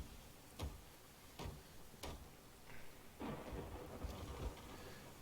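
Thunderstorm at sea in the pirate video game Sea of Thieves: several sharp thunder cracks with deep rumbles roll over a steady wash of rain, growing into a denser, louder roar toward the end.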